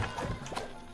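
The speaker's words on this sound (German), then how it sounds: "Wir hören Pferde" Horse hooves clip-clop briefly in a SpongeBob video game, a short run of soft, evenly spaced knocks at moderate distance over a steady game background.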